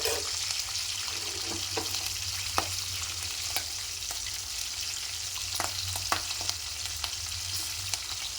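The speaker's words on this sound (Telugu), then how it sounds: "మనం పొడవుగా కట్ చేసుకున్న పచ్చిమిర్చి ఇవి కొంచెం ఫ్రై అయితే సరిపోతుందండి" Long green chillies, cut lengthwise, frying in hot oil for a stuffed brinjal masala curry, giving a steady close sizzle with scattered sharp pops and crackles throughout, no voices.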